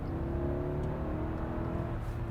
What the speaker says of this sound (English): how does it sound from the inside when I floor it in Maybach mode?